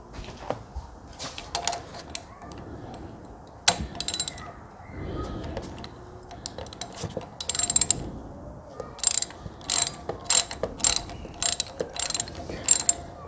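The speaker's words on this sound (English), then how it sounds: "you're going to need a 10mm socket, and there is a lock nut just under there" Ratchet with a 10mm socket removing a lock nut on a Kawasaki Ninja 400, a close, crisp clicking that comes in short bursts, sparse at first and then faster and more regular.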